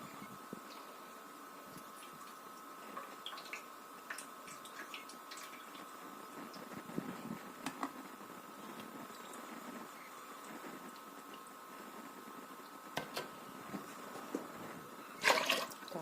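Whey draining off homemade goat brynza cheese: a steady, soft trickle and splash of liquid running continuously, with a few faint clinks and drips and one brief louder clatter near the end.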